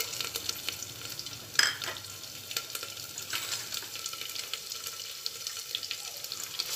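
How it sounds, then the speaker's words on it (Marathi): A ginger, garlic and coriander paste frying with cumin, mustard seeds and curry leaves in a pan, continuous crackling sizzle with a sharp scrape of stirring early on and lighter stirs after. "हे चांगलं हलवून घ्यायचं।"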